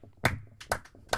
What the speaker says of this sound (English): Awkward clap.